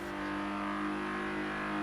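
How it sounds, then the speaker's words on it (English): Supercharged engine of the Quartz Regalia in Forza Horizon 3, a low rumble with a steady high-pitched supercharger whine, rising slightly over a short moment, close and fairly quiet with no talking. "It's like you hear the low rumble and the high-pitched whine of the supercharger."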